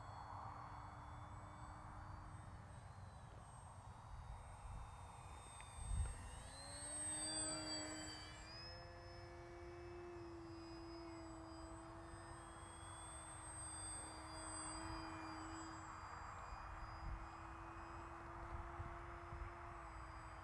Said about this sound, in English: This is a fun flying RC plane